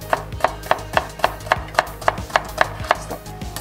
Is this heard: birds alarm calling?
no